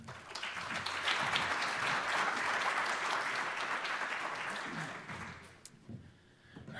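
A conference audience breaks into sustained applause for an arriving speaker: dense, even clapping from many hands that holds for several seconds, then thins and fades to a few scattered claps.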